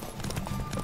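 Horse galloping in The Witcher 3, a brief burst of rapid hoofbeats with a steady rhythm, close and moderately loud.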